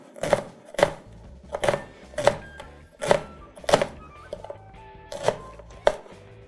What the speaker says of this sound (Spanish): la cebolla puerro, la vamos a cortar así en unas medias lunas